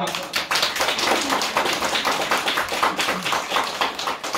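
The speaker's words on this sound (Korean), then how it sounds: "박수 한번 쳐주시죠." Sustained applause from an audience at a Buddhist temple ceremony, many hands clapping in a dense, steady patter for several seconds, close and fairly loud.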